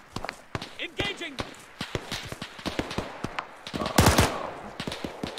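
Rapid gunfire in the Arma 3 video game, a dense run of sharp shots with uneven spacing and a louder burst near the end, mixed with someone talking over the action.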